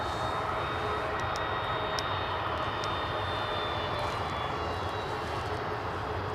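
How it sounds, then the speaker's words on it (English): At Edinburgh Airport on a cold morning, a United airliner inches toward the gate, its engines producing a steady, even idling roar with a high whine, close and constant throughout. "Let's just stay with the United for the moment as it inches to gate."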